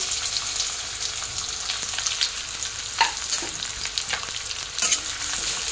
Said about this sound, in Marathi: तेल गरम झालेलं आहे तर आपण कांदा तेलामध्ये चांगला भाजून घ्यायचा आहे।